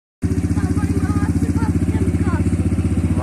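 A new 250cc automatic quad ATV engine starts up and settles into a steady, loud, rapidly pulsing idle, with voices talking faintly underneath.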